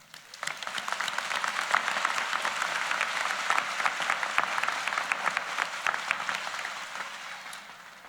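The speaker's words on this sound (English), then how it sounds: "Please give a round of applause to Chancellor Conway." Sustained applause from a convocation audience welcomes Chancellor Conway at a Rutgers School of Social Work ceremony: dense, steady clapping from many hands that swells quickly and holds evenly for several seconds without speech.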